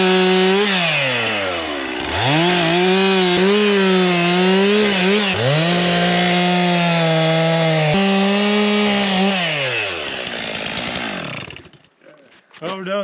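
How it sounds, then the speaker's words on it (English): Chainsaw cutting firewood logs in Alaska, a loud, close engine whine that bogs down and revs back up through several cuts, then winds down to idle and stops near the end. "we're done with the chainsaw"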